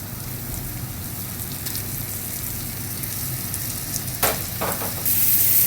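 Flour-dusted beef chunks searing in butter in a frying pan give a steady, dense, close sizzle throughout, with a few sharper crackles and stirring clatters near the end and no talk.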